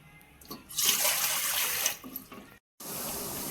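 Water runs from a tap into a cooking pan on a gas stove while brinjal chop is being prepared, a steady hissing splash that swells, cuts off briefly, then resumes.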